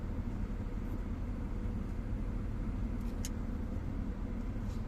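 Steady road traffic rumbles past on a street in Paphos, Cyprus, a continuous, moderately faint flow of car engines with no single vehicle standing out and no talk.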